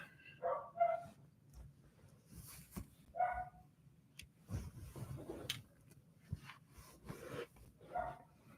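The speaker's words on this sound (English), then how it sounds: "He's just barking for the sake of barking." A pet dog named Alfie barks in short, sharp bursts with pauses between, fairly close in a home, mixed with some yips and rustling background noise.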